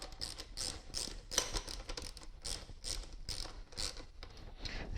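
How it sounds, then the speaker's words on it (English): Tightening a tiller assist fitting down snug gives a run of quick, close mechanical clicks and ratcheting taps in a steady rhythm, with no talk. "So we can tighten this nice and snug."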